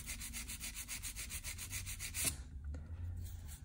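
A hand file rasps back and forth across an acrylic gel nail in quick, even strokes, soft and close, before the rubbing stops and a quiet pause follows.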